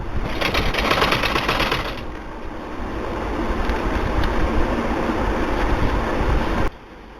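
A sewing machine stitches belt loops onto men's trousers, a steady fast mechanical whir that runs continuously and close, with an early louder burst before cutting off abruptly at the end.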